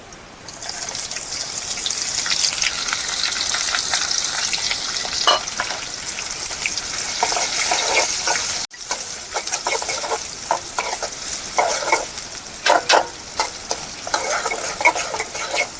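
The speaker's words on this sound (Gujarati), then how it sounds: "આપણે નાખી દઈએ એની અંદર કટિંગ કરેલી ડુંગળી," Chopped onion sizzles loudly in hot oil while being stirred, a continuous close frying hiss with scraping and clattering spoon strokes that grow choppier after a brief break midway.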